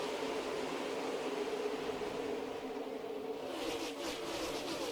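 NASCAR race cars at the start of the Daytona 500 create a dense, steady roar of many engines, a continuous wash of motor noise without any talking.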